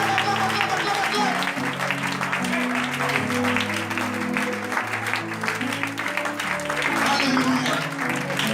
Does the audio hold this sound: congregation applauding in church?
yes